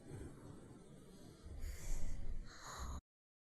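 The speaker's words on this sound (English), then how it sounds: "I hear breathing." Heavy breathing with snorts and gasps, close and somewhat muffled over low rumbling ambience in a cosmic horror video game, swelling louder near the end before cutting off abruptly.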